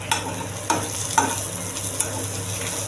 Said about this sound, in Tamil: வடகம் போட்டு வதக்கிங்க